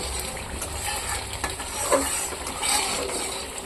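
A spice paste with garlic and salt fries in a pan, a steady soft sizzle with occasional light scrapes and clinks of a stirring spoon, no talk.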